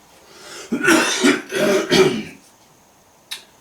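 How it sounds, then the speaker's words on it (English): An adult's coughing and throat clearing on a smoky day: a harsh burst of several coughs and hacks over about two seconds, close and loud, then a brief faint hack after a pause. "Boy, I'm coughing a lot, more than usual."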